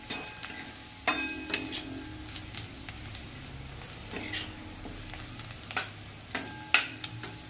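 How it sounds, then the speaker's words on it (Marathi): A spoon stirs spicy vada onion chutney in a pan, giving soft sizzling under a run of sharp scraping clacks at irregular intervals, close and fairly quiet, with no talk. "असं मस्त हलवून घ्यायचं आपल्याला, याला असं छान मिक्स केलंय आपण."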